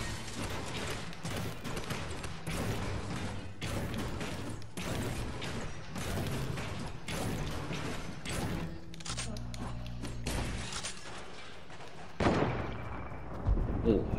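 Video game gunfire aimed at a launch pad, with dense rapid bursts of shots and thuds running through most of the stretch, then a short pause before a few more heavy hits near the end.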